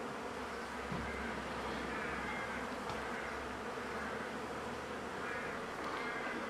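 Honeybees from a nucleus hive with a Lerouge queen swarm around the hive entrance in heavy flight, a dense, continuous buzzing drone holding steady throughout with no voices.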